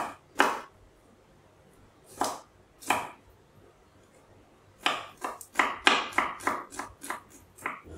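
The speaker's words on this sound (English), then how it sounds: "Then we're gonna finely chop it up." A knife finely chopping food for lechon manok on a cutting board, a few separate thuds followed by a quicker run of sharp knocks, close and clear with no talking.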